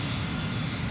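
A fighter jet roars in the Assault Horizon video game, a dense, steady engine rush that holds loud and unbroken through the whole second with no voices.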